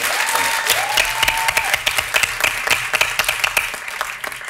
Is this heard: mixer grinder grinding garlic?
no